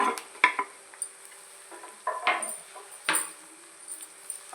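Onions and chillies frying with dried prawns in a pan, a quiet sizzle broken by several sharp bursts of stirring and spoon scraping against the vessel, spaced irregularly about a second apart.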